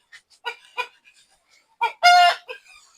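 Light Brahma chickens on a poultry farm, a few short clucks followed by one loud, close crow, with quiet clucking trailing after.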